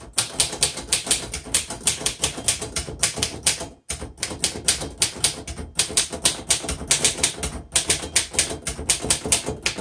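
Keys clack rapidly on a 1935 Royal Model O manual typewriter, close and crisp, in quick bursts with brief pauses and an occasional heavier carriage thump.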